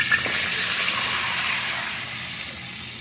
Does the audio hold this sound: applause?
no